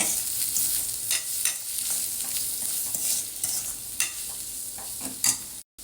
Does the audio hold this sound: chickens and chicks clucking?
no